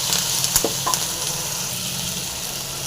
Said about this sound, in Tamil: நல்லா ஃப்ரை பண்ணிக்கலாம் நல்லா ஃப்ரை ஆகட்டும்